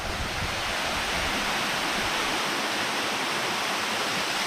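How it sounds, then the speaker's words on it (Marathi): Siddheshwar Waterfall in Alibaug roars in a dense, steady rush of falling water, loud and close, with no other sounds breaking through. "पण धबधबा मात्र एक नंबर आहे खूप जोरात लागत असेल तिथे पाणी"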